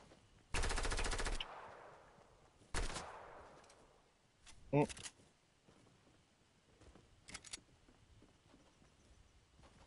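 Video game gunfire, a sharp burst of rapid automatic shots followed by a shorter burst and a few scattered single shots, with quiet gaps and faint clicks between.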